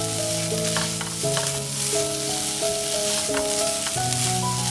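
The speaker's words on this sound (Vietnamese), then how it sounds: "mình cho phần tôm tươi vào. Sau đó thì đảo nhanh khoảng 1 phút để cho tôm chín tới" Fresh shrimp and pork filling for bánh cuốn is tossed quickly in a pan, giving a continuous loud sizzle under sustained background music.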